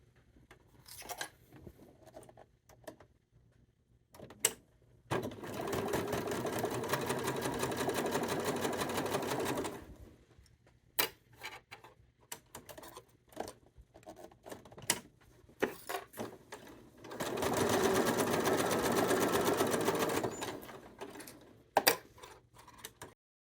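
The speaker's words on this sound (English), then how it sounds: "with this we want to sew on the line" Sewing machine stitching a flying goose quilt unit for a Christmas mystery quilt, two steady runs of about five and three seconds separated by quieter handling clicks and taps, close and clear with no talking.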